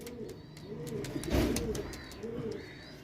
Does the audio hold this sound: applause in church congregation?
no